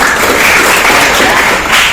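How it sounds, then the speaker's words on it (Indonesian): Applause from a class of students in a manufacturing workshop, a dense, steady patter of many hands clapping together throughout, close and fairly loud with no talk over it. "Oke, tepuk tangan"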